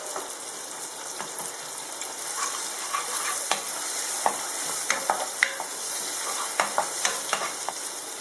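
Tomatoes and ginger garlic paste sauté for a mutton liver fry, with a soft continuous sizzle broken by sharp spatula taps and scrapes against the pan.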